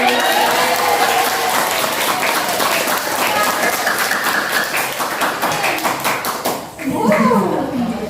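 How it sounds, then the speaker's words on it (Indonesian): An audience at a school event claps hands energetically, with sharp individual claps within a dense patter; voices and a brief other sound appear near the end. "Hebat bener tepuk tangannya sampai merah ya."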